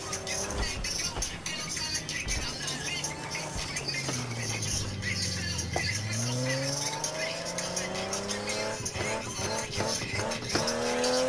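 A 1,000-horsepower McLaren in Need for Speed drives through a swamp with a steady engine drone, a rising rev sweep and tire noise under continuous music and talk.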